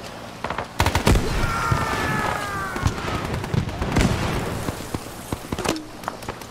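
In a video game, a frag grenade goes off in a sharp, booming blast amid a string of rapid gunshots and cracks, with a whistling tone and scattered impacts trailing after.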